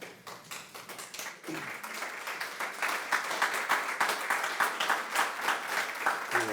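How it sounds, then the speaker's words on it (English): A seated audience at a 911 dispatcher graduation and training facility ribbon cutting gives a round of applause, with dense, steady clapping building slightly louder and continuing throughout. "Thank you for that round of applause"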